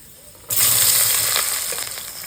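Bay leaves, black pepper, cardamom, cloves, cinnamon and onion hitting hot oil in a pan, with a sudden loud sizzle bursting in and crackling steadily after a quiet start.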